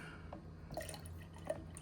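Buttermilk drips from homemade butter being squeezed by hand, a few faint separate drops landing in liquid over a quiet background.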